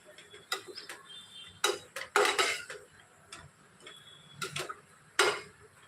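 A spoon stirring puffed rice khichdi in a pan, with a series of sharp metallic clinks and scrapes against the pan at an irregular pace, close and moderately loud, with no voices.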